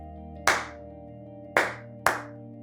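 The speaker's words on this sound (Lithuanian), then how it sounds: "arba paploti vaikui ritmą, tegu vaikas jį atkartoja" Three sharp hand claps ring out close and clear in a short rhythm, two spaced apart then a quicker third, each with a brief decay over a quiet hum.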